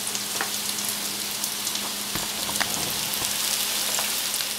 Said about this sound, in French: Donc je vais frire tous mes falafels.